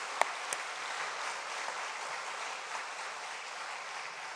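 A church congregation applauds during a worship service, a steady, even wash of clapping held at a moderate level for the whole stretch with no voices over it.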